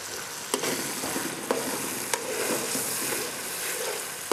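Whole spices go into tomatoes cooking in a pot for Karachi biryani, with a dense, continuous sizzle and several sharp stirring knocks against the pot, close and fairly loud.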